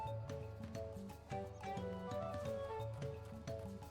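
Horse mount hooves in the video game Final Fantasy XIV: Dawntrail, a steady repeating clip-clop of hoofbeats mixed with rhythmic background music, moderately loud and continuous throughout.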